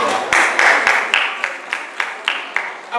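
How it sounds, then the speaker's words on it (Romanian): An audience applauds young performer Alexia at the 20th Tip-Top Minitop contest in a Romanian house of culture, with steady, rhythmic claps repeating about three times a second at moderate loudness. "Aplauze pentru Alexia."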